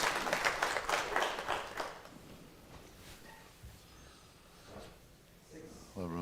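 Applause in the audience at a snooker championship at the Radisson Blu Resort in Saïda, Morocco, a burst of clapping for about two seconds that fades to quiet room noise, with soft voices later.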